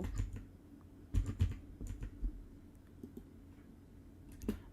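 Someone types a prompt on a computer keyboard: irregular bursts of close, quiet keystrokes with brief pauses between them.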